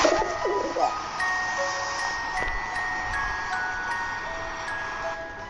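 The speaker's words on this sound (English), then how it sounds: "Pigeon." A pigeon gives a brief, soft coo right at the start, and a gentle tinkling musical backing carries on alone after it.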